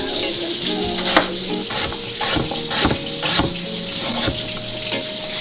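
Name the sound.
diced meat sizzling and rendering fat in a pan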